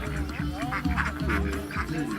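Ducks quack repeatedly at a crowded medieval fair in Pierrefonds, several calls overlapping in quick bursts close by, with crowd voices murmuring underneath.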